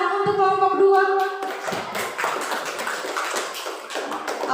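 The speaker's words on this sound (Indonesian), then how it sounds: "Ya, kita beri tepuk tangan untuk kelompok 2." Classroom clapping for a student group, a scatter of hands clapping unevenly and fairly close, beginning after a short tonal sound at the start and continuing steadily to the end.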